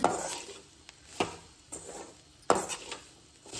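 A metal spoon scrapes and taps against a pan while turmeric powder and homemade garam masala are mixed in, giving several sharp clinks and soft stirring scrapes at close range.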